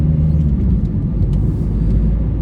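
Car driving straight along a city street in Lviv, heard from inside as a steady, loud low engine and road rumble with no change in pace and no talking.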